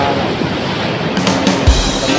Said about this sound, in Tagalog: Alon sa Dizon Samar. Yan, lalaki ng alon, abot na dito yan